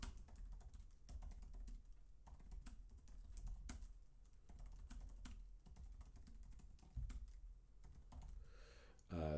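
Fast typing on the keyboard of a 2019 16-inch MacBook Pro makes a quiet, rapid patter of soft key clicks, with occasional heavier taps standing out near the end.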